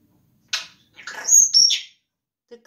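A pet bird sings nearby in a quick run of bright chirps and whistled notes, with quiet pauses before and after.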